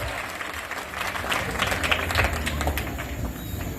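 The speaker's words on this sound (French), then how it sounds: "Est-ce qu'on peut acclamer le Seigneur?" A church congregation at an evangelistic campaign in Gagnoa applauds to acclaim the Lord, steady dense clapping from a large crowd with a faint hum beneath, continuous throughout.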